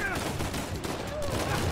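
Rapid gunfire in the video game Uncharted 4: a dense, continuous spray of shots over busy game sounds, with a voice faintly present.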